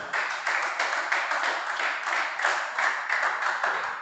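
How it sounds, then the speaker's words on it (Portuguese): A church congregation claps together in steady, sustained applause, a dense even patter of many hands throughout, moderately loud and without speech over it. "Dá mais um forte aplauso ao Senhor então."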